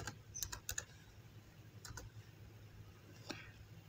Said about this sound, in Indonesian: buka Google kemudian ketikkan